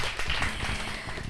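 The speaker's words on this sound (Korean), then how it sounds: "멋진 강연해주신 김근영 연구원님께 다시 한번 큰 박수 부탁드리겠습니다" Audience applause at the close of a science lecture on next-generation communications technology, a dense steady wash of clapping from a full hall, sustained and even throughout.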